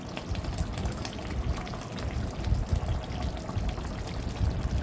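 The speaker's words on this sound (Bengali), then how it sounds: "এখন আমি আস্তে আস্তে মিশিয়ে দেব গুঁড়ো করে রাখা" Ground spice being stirred into boiled meat and potatoes for homemade biryani, a steady simmering, bubbling wet sound with soft scraping, moderately close and continuous, no talk.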